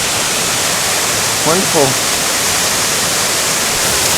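A small waterfall at Benlister Falls with a plunge pool, a steady, loud broadband rush of falling water filling the whole clip, with a brief spoken word heard over it partway through.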